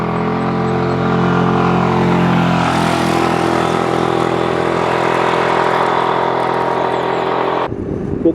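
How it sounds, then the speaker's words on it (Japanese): A Suzuki Burgman 400 ABS big scooter climbs a long uphill road with the engine near 5000 rpm, giving a steady loud drone with wind rush that cuts off abruptly at the end. "今エンジンの回転数の方は5000回転弱といったところ、エンジンが頑張って回っているなという感触"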